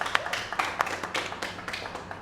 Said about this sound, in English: can you give them a round of applause or show your thumbs up that you're all ready for them?